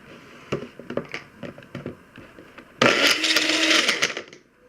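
A blender mixing a smoothie: first a series of knocks and clunks from handling the jar, then the motor starts in a loud, steady roar for about two seconds before winding down.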